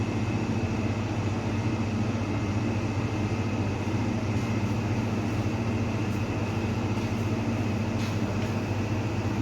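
A laboratory centrifuge chilled to 4 °C spins at 10,000 rpm during manual DNA isolation, giving a steady, continuous whirring hum with a constant high tone, close and unbroken.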